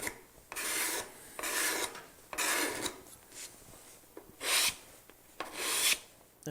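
Card scraper drawn across the wooden surface of a bread box, five or six short rasping strokes with brief pauses between, close and fairly quiet, no talk.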